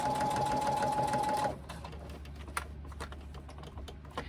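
A sewing machine runs a quarter-inch seam on a fabric pocket pouch in one loud steady burst, then stops, leaving quiet clicks and light handling noises.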